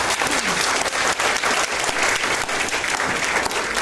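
An audience claps and cheers enthusiastically at a seminar, a dense and steady wash of applause that holds from start to finish.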